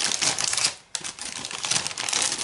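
Close, sharp crinkling and snipping sounds as scissors cut through stiff plastic packaging of a Panini Harry Potter card pack, with a brief pause before the rustling crackle resumes.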